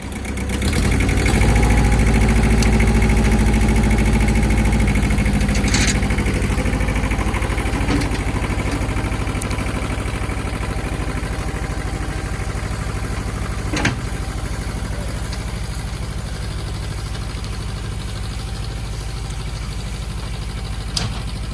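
A Ford 1700 tractor engine idles steadily and close by, a loud, continuous low rumble with vibration that holds constant throughout, with only a couple of brief knocks and no talking.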